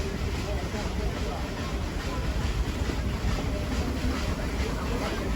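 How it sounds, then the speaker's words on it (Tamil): The Ooty toy train runs slowly, giving off a steady, dense rumble and rattle of wheels and carriage noise that stays loud and even throughout, while a voice speaks faintly underneath. "ஸ்லோவாக தாங்க போகும் ட்ரெயின், ரொம்ப ஸ்லோவாக தான் போகும்"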